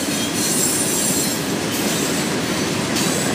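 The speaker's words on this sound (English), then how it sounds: "Leading this train with a TTX boxcar on the top." An FEC freight train with a TTX boxcar rolls past close by in a loud, steady roar of wheels and rail noise, with high wheel squeal running underneath.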